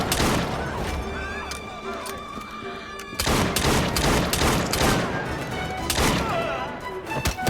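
Gunfire in Assassin's Creed Syndicate: a sharp, loud volley of shots, lighter at first and then a heavier, denser barrage of cracks and thumps in the second half.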